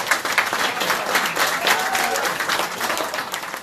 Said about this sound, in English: Let's give him a applause to Rafi.